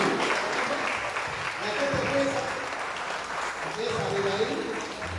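A church congregation applauds during a Sunday service, a steady, dense wash of clapping that holds for several seconds, with voices faintly mixed into it.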